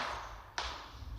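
Two sharp, faint gunshots ring out in PUBG about half a second apart, distant over a steady hum of background noise.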